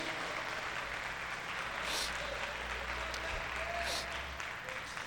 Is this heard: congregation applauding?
yes